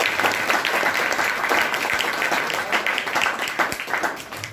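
Loud applause from a room full of people at a school function, dense steady clapping that tapers off slightly toward the end.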